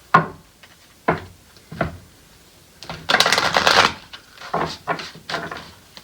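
Tarot cards being shuffled by hand, a few short riffling bursts separated by pauses, then a longer, louder flurry of shuffling, close and dry.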